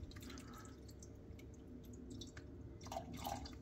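Water poured from a can onto potted plants, giving soft dripping and trickling splashes over a low steady hum, faint and close, with no talking.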